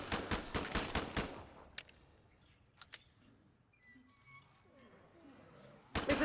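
Burst of SMG gunfire in the Killing Floor 2 SWAT mode on the Burning Paris map, a rapid loud volley of shots up front, then quieter scattered game sounds, and a second burst that starts at the very end.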